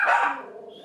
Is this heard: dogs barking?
yes